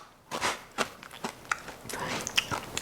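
Homemade air fryer chickpeas with seasoning salt and dried parsley are crunched in a few close, sharp bites, irregular crackling chews following one another after a quiet start, with no talking.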